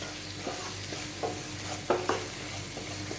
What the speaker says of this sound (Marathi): ते सगळे आपण एकत्र करून घेऊया आणि ते सुद्धा आपण व्यवस्थित फ्राय करायचे